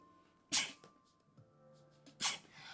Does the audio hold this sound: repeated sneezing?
yes